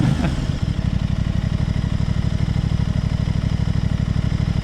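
An Aprilia RS 660 motorcycle engine is restarted, with a brief cranking burst that catches and settles into a close, steady, rhythmic idle, loud and throbbing with no voices.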